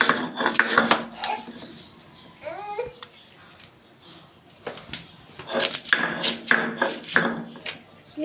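Burnt dried chillies and salt are ground into a coriander-leaf bharta on a flat stone slab with a stone roller. Rough scraping and crushing strokes come in bursts, with quieter pauses between them.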